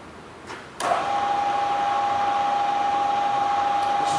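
A Bridgeport 2 HP 9 x 48 inch Series 1 vertical mill, wired for 220, starts up in low range and settles into a steady whirring hum with a sustained tonal whine, close and continuous.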